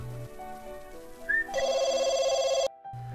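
A telephone rings with an incoming call, a steady electronic two-tone bell that rises out of a soft background tone, sustains for about a second, then cuts off abruptly.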